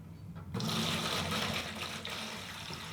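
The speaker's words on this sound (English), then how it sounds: "I'm going to toss in 4 gallons in each bucket using straight distilled water" Straight distilled water pours steadily into a wash bucket fitted with a grit guard, a loud continuous rushing splash that starts abruptly and keeps going without a break.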